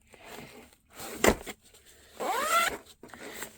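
A zipper on the large front compartment of a sketching bag is pulled in a few quick strokes, one short sharp rasp followed by a longer rising zip, close and fairly clear over quiet room noise.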